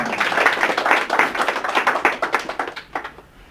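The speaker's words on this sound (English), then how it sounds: "Big round of applause for her" Small audience at an NLP workshop clapping, a brisk close patter of individual hand claps that thins out and fades after about three seconds.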